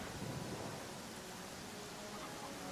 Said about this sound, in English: The main issue that's causing us to be slow here is actually the rain.